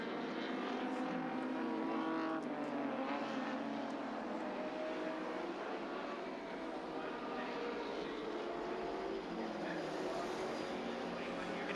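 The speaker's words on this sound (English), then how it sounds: "Fury's car with Glenn Seaton driving it still sounds sweet as a nut" Touring car engine at the 1986 Sandown 500, Glenn Seaton driving Fury's Nissan down the main straight, a steady sustained roar with shifting pitch, heard under continuous race commentary.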